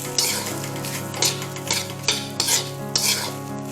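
Fried rice stirred in a hot pan over high heat: a constant loud sizzle punctuated by a rhythmic series of spatula scrapes and clinks against the metal, roughly every half second.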